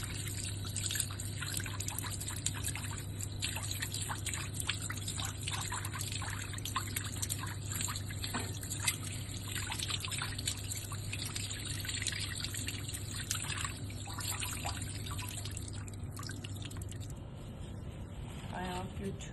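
Steady running water from a lab sink rinsing dissection tools after a rat dissection in a biology lab, a continuous close splashing hiss with a low hum underneath throughout.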